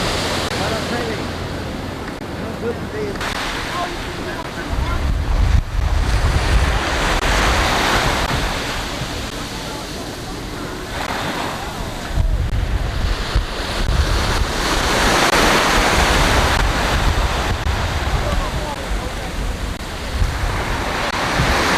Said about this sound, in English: There it is, the magnificent Acapulco Beach.